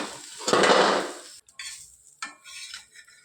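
Green leaf dosa batter cooking on a hot pan gives a short, bright burst of sizzling, followed by quieter metallic clinks and scrapes of a utensil against the pan.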